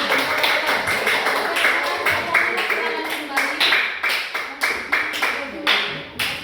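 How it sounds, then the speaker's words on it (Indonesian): Group of students clapping together for a class presentation, a steady dense patter of hands that stays loud throughout, with voices murmuring faintly underneath. "Kalau begitu kita berikan aplaus sekali lagi untuk kelompok ini."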